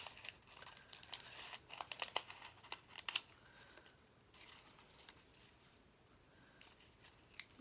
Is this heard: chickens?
no